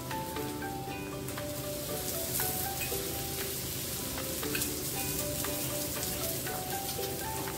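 Thalipeeth sizzles and fries in hot oil in a pan, a steady close crackle with scattered sharper pops throughout, no voices.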